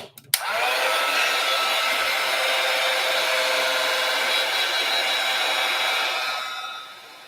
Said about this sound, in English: I'm going to use my heat tool just in case anybody is wondering.